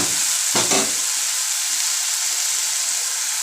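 Onions sauté for a gravy with a loud, steady, close sizzling hiss that runs throughout, broken by one brief stir early on.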